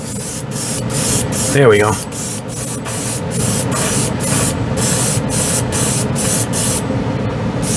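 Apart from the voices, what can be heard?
airbrush spraying Humbrol white model paint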